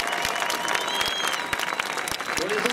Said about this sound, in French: Vous pouvez les applaudir très fort parce qu'ils méritent plus que ça